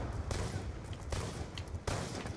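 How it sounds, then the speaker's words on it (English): Gunfire in Call of Duty Black Ops 2 rattles in several rough bursts under a constant noisy game din, with sharper cracks standing out at moments. "I can hear shots"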